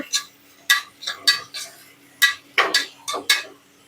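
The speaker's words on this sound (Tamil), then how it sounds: "வெங்காயம் சேர்த்ததுக்கப்புறம் நல்லா இந்த மாதிரி வதக்கிக்கோங்க." Onions sautéing for mutton biryani are stirred with a metal spoon in a pan, giving close, bright clanks and scrapes in quick irregular bursts of one to three, with no talk.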